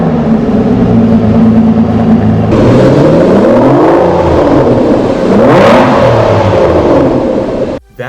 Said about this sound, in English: here's what an Aston Martin V12 sounds like.